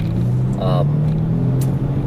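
A 2020 Genesis G70 Sport accelerates at full throttle, its engine giving a steady low rising drone heard from inside the cabin, with a voice talking over it.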